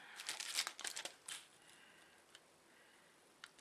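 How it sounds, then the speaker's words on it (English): Crinkly plastic packaging around small photo frames rustles close up in a quick flurry, then fades to a few soft isolated crackles against a quiet room. "Sorry about the rustling."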